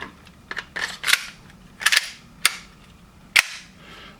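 Airsoft Glock 17 fitted with a UAC loading nozzle cycling, heard as sharp, close snapping shots at an irregular pace, with softer clacks of the slide between them.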